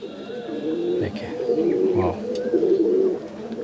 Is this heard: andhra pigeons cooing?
yes